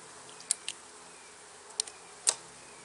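Honey bees around an open package during a hive installation, a faint, thin buzz with a few sharp, brief bursts as insects pass near the microphone.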